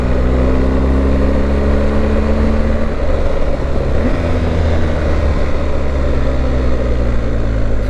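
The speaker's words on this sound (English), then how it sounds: "It's quite a bit of engine braking." A BMW GS 1250 motorcycle engine braking, with a loud, steady mechanical drone and wind rush throughout, its low engine tones sliding gradually in pitch.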